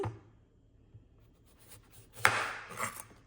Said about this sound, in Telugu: ఇట్లా కోసేస్తాను నేను. ఇలా కట్ చేసేసి